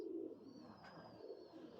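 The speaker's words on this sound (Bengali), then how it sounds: "এ হচ্ছে কবুতর।" A pigeon coos softly nearby with one short, low, rolling call, and no other sounds are heard.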